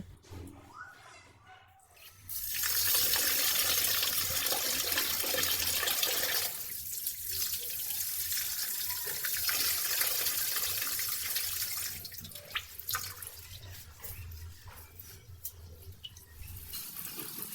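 Rice rinsed under a running tap: after a quiet start, a strong steady gush of water pours in, easing and changing as the rice is stirred and swished, then continuing more unevenly toward the end.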